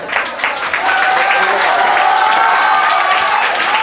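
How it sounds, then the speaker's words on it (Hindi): Audience at a Holi Milan celebration applauding strongly for a performer: sustained crowd clapping mixed with faint cheering and voices, starting lighter and quickly building to a full, steady roar. "जोरदार ताली हो जाए सर्दी के लिए रे।"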